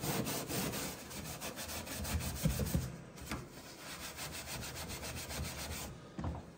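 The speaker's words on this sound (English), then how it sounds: "that's a lot of scrubbing, but that is taking it off" An SOS steel wool pad scrubs the inside of a Ninja Foodi oven in rapid back-and-forth strokes, a close, continuous raspy rubbing with a steady rhythm.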